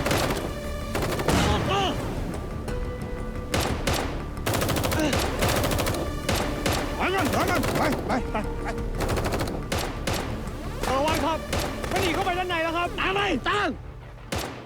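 Rapid gunfire from a Thai TV police drama fills the scene with dense, loud bursts of shots and blasts, crackling almost without pause over music and voices.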